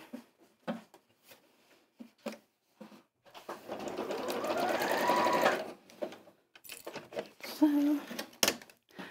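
A domestic sewing machine runs a tacking stitch through four fabric pieces within the seam allowance while making a sewing machine cover, a steady whirring burst of about two seconds set between stretches of someone talking.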